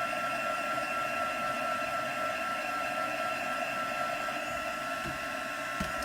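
Steady, loud blowing whir of a craft heat tool pushing hot air over fibres, a continuous tonal motor drone with airy hiss that holds unbroken throughout, with no talk.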